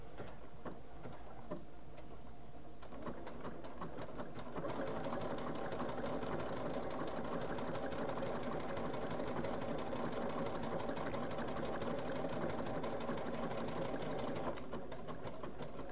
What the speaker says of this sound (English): Let's just continue sewing.